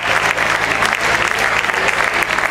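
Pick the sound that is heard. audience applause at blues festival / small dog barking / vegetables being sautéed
audience applause at blues festival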